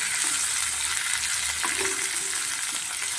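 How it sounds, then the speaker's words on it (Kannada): Chopped bitter gourd pieces that were salted and squeezed fry hard in a tempering pan, giving a dense, even, loud sizzle close up with faint stirring underneath and no voices. "ಚೆನ್ನಾಗಿ ಫ್ರೈ ಮಾಡಬೇಕು"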